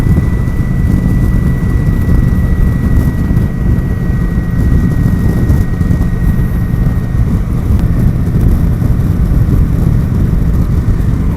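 A Kawasaki Vulcan 900 motorcycle rides on a mild overcast day, giving a constant loud engine drone mixed with heavy wind rush and buffeting, with no talk.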